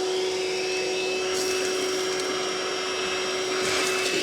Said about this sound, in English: So well, I'm going to have to hoover then, aren't I?